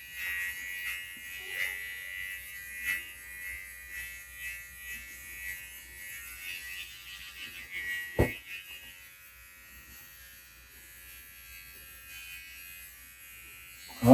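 A cordless professional barber hair clipper runs with a steady high-pitched electric buzz, close and continuous, with a brief knock near the middle as it is handled.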